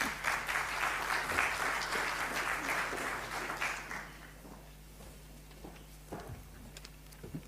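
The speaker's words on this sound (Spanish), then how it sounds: "Recibámoslo con un aplauso, por favor." An audience at a university talk welcoming a speaker with applause: dense clapping for about four seconds that then fades out, leaving room noise and a few scattered sounds.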